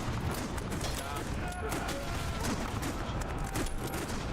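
Rapid gunfire in a first-person shooter video game rattles steadily throughout as a dense, continuous burst, with a person talking over it.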